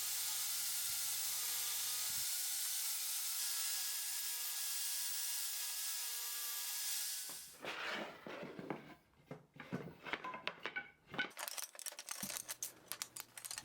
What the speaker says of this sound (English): so we go right to the table saw and cut everything at 2 inches wide.